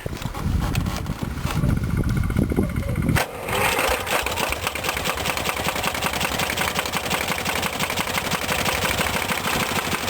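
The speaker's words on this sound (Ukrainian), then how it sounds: "Все, зараз заводимося, їдемо далі." A small engine on a homemade cultivator fires up after a rough cranking stretch, then settles into a steady fast idle chatter that runs on loud and close, with brief talk over it.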